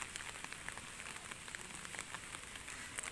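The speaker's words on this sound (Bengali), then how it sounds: "বৃষ্টি পড়ে যাচ্ছে পড়ে যাচ্ছে" Soft, steady rain patters down at a distance, a quiet hiss dotted with faint drop clicks, with no voices.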